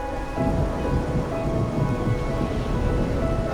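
Steady rain falls in the video game Wuthering Waves, a dense, continuous hiss of drops on surfaces with a low rumble beneath, close and even throughout.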